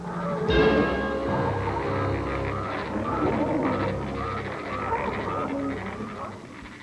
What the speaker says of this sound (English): Those frogs make my skin crawl.